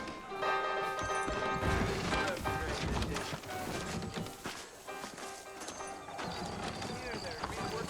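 Horse hooves clip-clop steadily in the video game Red Dead Redemption, beneath a busy layer of music and voices, the clatter fairly loud and continuous throughout.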